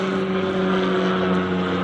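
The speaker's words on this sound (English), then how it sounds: "These helicopters are so loud. They go over all the time." A loud medevac helicopter passes overhead, its steady droning engine and rotor hum filling the air continuously and close without any voices.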